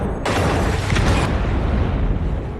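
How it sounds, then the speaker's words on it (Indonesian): A sudden loud blast erupts into a dense, sustained roaring rumble that fills the rest of the moment without fading. "Ledakan mengoyak keheningan"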